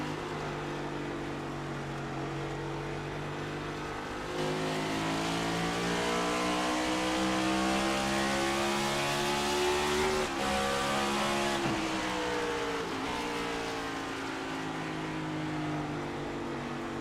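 Sim racing race cars in a Crusin' Classics Next Gen series race come off throttle into a corner, a loud continuous engine drone whose pitch falls and rises as the cars decelerate and then accelerate out.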